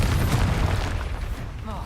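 Confringo explosive spell blast in the Hogwarts Legacy video game: a dense, booming burst with sustained rumbling energy, loud and close, with a brief whooshing tail near the end.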